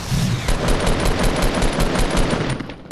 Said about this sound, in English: Everybody shoot the guided missile, bro.